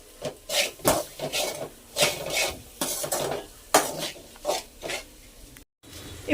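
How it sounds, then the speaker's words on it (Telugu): Egg and salt mixed in a pan for egg rice, repeated rhythmic scraping and rubbing strokes of a spatula against the pan, close and fairly loud, with a brief dropout near the end and no talk. "వేసి నీట్గా మిక్స్ చేసేద్దాం"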